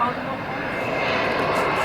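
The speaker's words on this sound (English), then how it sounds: "Airplane." An airplane flies overhead, a loud, steady broadband engine roar holding throughout the short stretch, with a person speaking over it.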